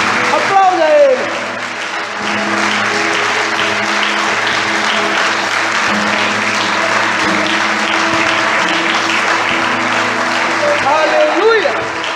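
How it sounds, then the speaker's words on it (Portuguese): Church congregation applauding during a Portuguese-language worship service, steady dense clapping throughout with music and voices underneath, swelling slightly at the start and end. "Aplauda Ele."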